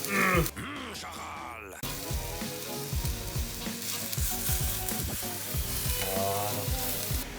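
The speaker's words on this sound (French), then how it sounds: "Ça sent la viande qui cuit là." A beef patty sizzles and fries steadily in a pan, crackling continuously throughout, with a few brief louder pops and stirring knocks near the start.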